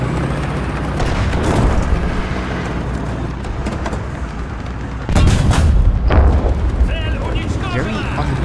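Tank cannon fire and battle noise in War Thunder: heavy booms and rumbling blasts punctuate continuous engine and combat din, with a sharp louder impact midway, while someone talks over it.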